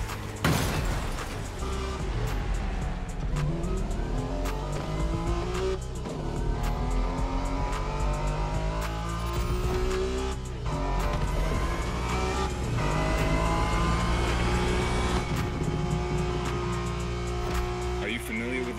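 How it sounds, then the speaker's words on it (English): A Honda NSX races in The Crew Motorfest, engine revving and rising through gears with tire squeal and shifts, loud and continuous, with game music and voices mixed underneath. "Are you familiar with the Honda you're driving?"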